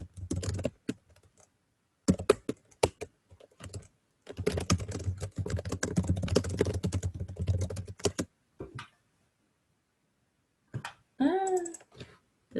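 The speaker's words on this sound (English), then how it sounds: "So it gives me time to type in keys." Someone types on a computer keyboard in short, uneven bursts of quick clicking keystrokes, close and clear, with silent pauses between the runs and a brief chirpy sound near the end.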